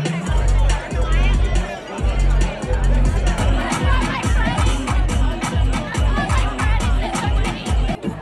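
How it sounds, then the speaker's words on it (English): Dense crowd hubbub at a free ski event, many voices chattering and shouting at once in a loud, close, continuous babble with rhythmic thumping underneath. "We're in the crowd right now."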